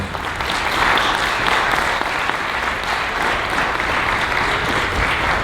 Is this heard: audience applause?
yes